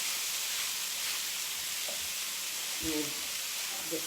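Breakfast taco filling fries in a skillet, giving a steady sizzle with a few soft scraping stirs and a faint voice underneath.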